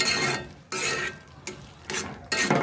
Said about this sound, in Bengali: এখন আমি ধনে পাতা কুচি দিয়ে দিলাম। দিয়ে আমি নাড়াটা দিয়ে নামিয়ে নিব।